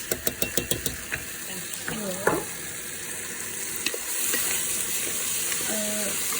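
Quinoa hits a hot pan of butter and softened onions on high heat, starting with a quick run of sharp clicks and scrapes, then settling into a steady, close sizzle as a voice speaks briefly.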